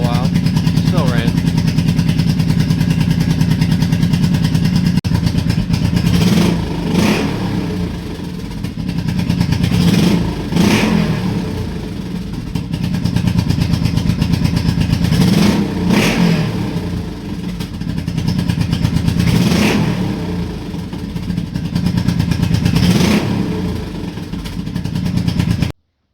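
A Honda Shadow motorcycle, freshly repaired with its fuel tank and carburetors reinstalled, runs steadily with a loud continuous engine drone and several rev surges, close by and filling the whole stretch.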